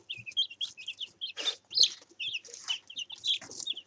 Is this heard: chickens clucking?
yes